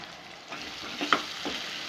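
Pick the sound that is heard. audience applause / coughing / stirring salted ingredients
stirring salted ingredients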